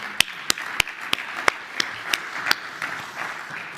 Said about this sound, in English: So please giving a thundering round of applause.